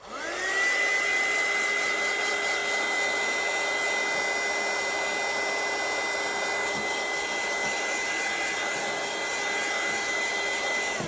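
A hair dryer blows steadily on a craft journal to dry damp glue, a continuous close whirring roar with a high whine that holds level for about eleven seconds, no talking over it.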